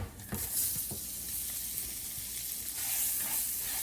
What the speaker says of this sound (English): I'm gonna add the mushrooms that was used to make the broth. I'm gonna add that and fry it up as well.